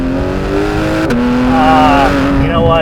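A 2018 Porsche 911 GT3 (991.2) with its flat-six engine revs loudly up a hill, its droning tone climbing and shifting in pitch, with a short spoken remark over it from inside the car.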